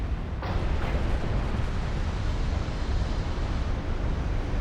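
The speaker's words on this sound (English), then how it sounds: "Another flash fire. One battlecruiser down." A battlecruiser goes up in a flash fire explosion during a naval battle in Ultimate Admiral: Dreadnoughts, heard as a sustained, dense roar of rumbling blast and churning sea noise with no voices over it.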